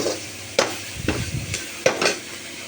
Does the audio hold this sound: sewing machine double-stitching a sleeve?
no